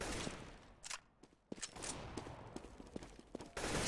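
Rapid gunfire in a Dota 2 match, a dense run of sharp cracks and bursts that repeats across the clip over a noisy backdrop of game effects, loud and close, with no voices.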